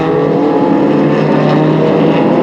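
A TVR Tuscan race car roars continuously and loudly at speed during a 1995 TVR Tuscan Challenge race, with a dense, sustained engine drone and no break in the sound.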